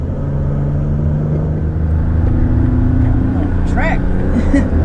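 A 2019 Toyota Tacoma SR cruising on the road at around 41 mph gives a steady low engine and road rumble inside the cab, while a person talks over it.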